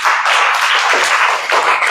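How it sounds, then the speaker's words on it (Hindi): An audience claps hands together in a brief, dense burst of applause that stays loud and steady for about two seconds, with no voices over it. "ताली बजाते हो इसके लिए।"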